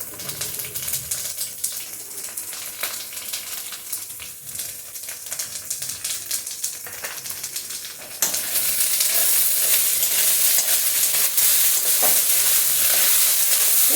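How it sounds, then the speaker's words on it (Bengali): Taro pieces fry in oil in a pan with a dense, steady sizzle that jumps abruptly louder and brighter about halfway through, close up and with no voices. "কচুটা আমি একদম লাল করে ভেজে নিলাম"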